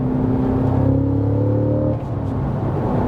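Cadillac CT5-V Blackwing engine pulling hard under acceleration, a loud steady drone with rising harmonic tones for about two seconds, then easing to a lower rumble, heard from inside the car.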